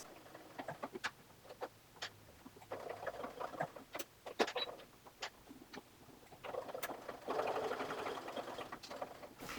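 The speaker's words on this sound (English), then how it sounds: "And then I'm going to turn and we're going to top stitch around the rest of this." A sewing machine fitted with a J-foot top stitches through fabric in quiet, uneven runs of rapid ticking, with small clicks and pauses between them, close by and fairly faint.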